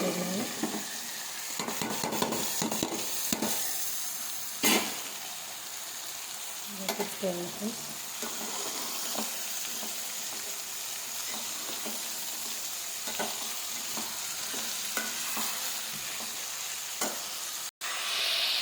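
Cauliflower palya with tomato being stirred in a frying pan over the heat, with repeated scraping strokes of a spatula against the metal over a constant sizzle, close up and without talk.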